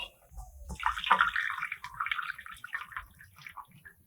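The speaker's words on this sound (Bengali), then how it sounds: "দুধ পুরোপুরি রেডি এবার একটা পাত্রে ঢেলে নেব" Milk being poured into a bowl while making dudh chitoi pitha, a splashing liquid stream that starts sharply and runs unevenly for a few seconds, close and moderately loud.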